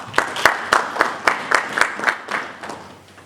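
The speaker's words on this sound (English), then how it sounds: "I think we deserve to give each other a clap." An indoor audience at an information ministry event breaks into steady applause, about a dozen sharp, evenly spaced claps that soften toward the end, with no talking over them.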